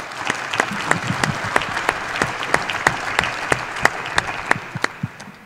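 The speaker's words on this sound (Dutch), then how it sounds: "Ik denk dat dat ook wel een applaus is voor jullie zelf." Steady applause fills the room at a Fortuna Sittard press conference, with sharp individual claps standing out over the crowd and softening near the end.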